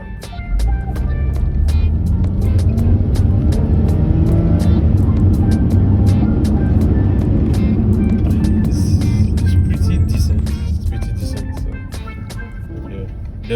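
A 2012 Hyundai Sonata engine revving up under full throttle, a loud, steady drone rising and holding for about ten seconds, heard from inside the car with speech over it.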